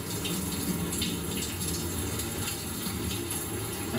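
Shower water runs steadily during a rinse, a continuous close hiss and splatter with no talking.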